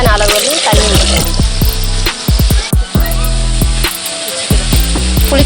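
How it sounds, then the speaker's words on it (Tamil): Water poured into a cooking pot for village-style pulicha keerai (gongura) kadaichal, a loud, close, continuous gushing and splashing that lasts several seconds. "தேவையான அளவு தண்ணி ஊற்றணும்."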